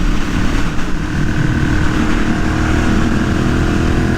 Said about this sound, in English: The 400-pound bike's just one of the lighter bikes that you'll get out on a road like this.